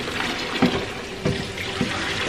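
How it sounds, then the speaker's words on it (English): Tap water runs steadily into a sink to soak and rinse cotton yarn dyed with fiber reactive dyes, a continuous close splashing hiss with a few small clunks. "I'm gonna put some water in here"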